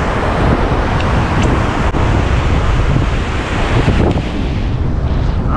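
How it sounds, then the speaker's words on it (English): Strong southeast wind buffets the microphone on the Galveston surf, with a loud steady roar of wind and breaking waves and no pause. "that wind is picking up and it's really pumping from the southeast here"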